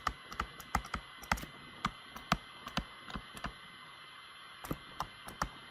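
Irregular bursts of keystrokes on a computer keyboard as a maths rule is typed out, crisp close clicks in quick runs with short pauses, alone over a faint steady hum.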